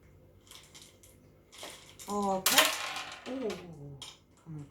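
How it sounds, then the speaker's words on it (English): A plastic plant pot is worked off a plant's roots while repotting into semi-hydroponics. Close, crinkly plastic crackling and scraping comes in uneven bursts that grow louder midway, and a person makes a few brief remarks. "Let's take the plastic thing out."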